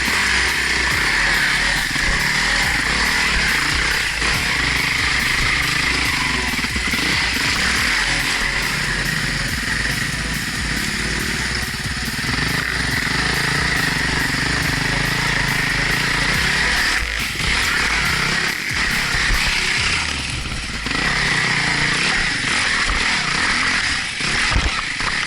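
Husqvarna TE449 dirt bike engine running steadily nearby, a continuous buzzing, raspy drone with slight throttle variations and a brief dip toward the end.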